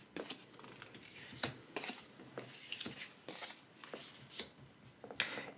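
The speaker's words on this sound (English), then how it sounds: "we must now turn over 4 new cards" Playing cards turned over one by one from a deck onto a table for the board game Thief's Market, giving soft, quiet flicks and slaps in an irregular sequence, close by and without talking.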